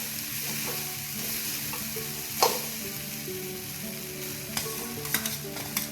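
Spiced Gujarati rice is stirred in a hot pan, a steady low sizzle running throughout with scraping strokes of the spoon and a few sharper clinks against the metal.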